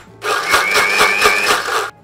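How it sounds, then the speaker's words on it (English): An electric blender whirs loudly and steadily for about two seconds as it purees a mango mixture seasoned with salt and chili in a home kitchen, starting and stopping abruptly. "you put this in a blender."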